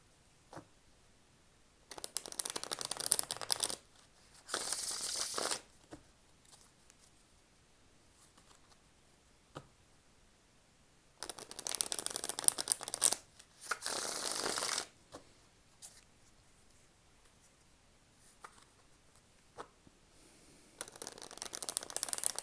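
A tarot card deck is shuffled in several close, crisp bursts of riffling and fluttering cards, separated by quiet pauses, with a final round starting at the end.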